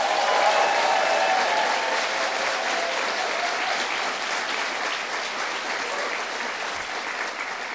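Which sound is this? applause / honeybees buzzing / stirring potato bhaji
applause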